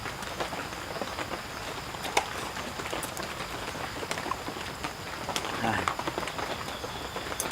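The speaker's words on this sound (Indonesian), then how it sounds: "hujan-hujan seperti ini, rintik-rintik" Light drizzle patters at a forest campsite, a soft, steady hiss dotted with faint droplet ticks, heard quietly at night.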